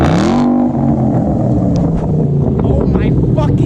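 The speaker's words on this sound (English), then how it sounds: "It's louder whenever you rev it, but at idle, it's a clean idle" A Ford Mustang with a 5.0 Coyote V8 and a cheap DIY muffler delete revs loudly, its exhaust roar steady throughout under wind buffeting and excited voices nearby.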